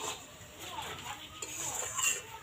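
A spoon scrapes and clinks faintly in a pan as mutton kosha with red chilli paste is stirred, soft irregular metallic taps under a voice.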